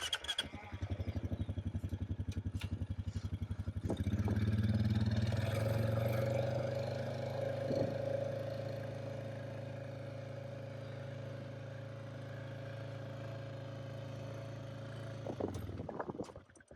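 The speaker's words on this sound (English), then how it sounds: "So I'm going to hop on the bike and move away a few meters" A farmer's motorbike on a lambing field starts with a rough, pulsing idle, then revs and moves away. The engine drone steadies and fades slightly before it cuts off with a few knocks at the end.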